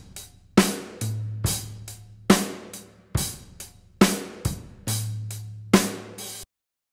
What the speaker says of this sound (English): Pretty straightforward, a nice room sound on that, pretty simple rock beat